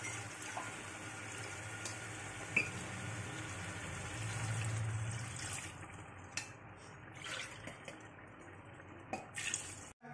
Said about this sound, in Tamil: இப்போ ஏழு கிளாஸ் தண்ணி வந்து ஊற்றிக்கலாம்